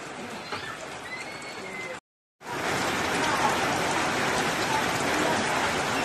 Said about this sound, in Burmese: ရန်ကုန်မြို့မှာဒီကနေ့မိုးရွာသွန်းမှု ဖြစ်ပေါ်နေတာကိုတွေ့မြင်ရပါလိမ့်မယ်